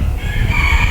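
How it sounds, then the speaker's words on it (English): A lavender Orpington rooster in a state fair animal barn gives a loud, close crow, a brief strained tonal call heard alone within a short burst. "lavender rooster. This is ours,"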